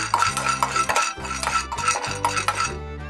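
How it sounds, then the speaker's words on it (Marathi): Peanuts dry-roasting in a pan on a gas stove, rattling and clinking metallically as they are stirred in quick bursts, with brief pauses. "त्यात आपल्याला शेंगदाणे भाजून घ्यायचे."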